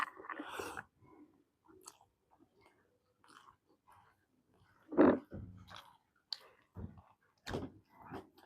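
Someone chewing and biting into a home-cooked meal at close range, with soft intermittent crunchy mouth sounds and clicks spread across quiet stretches, a louder bite near the middle.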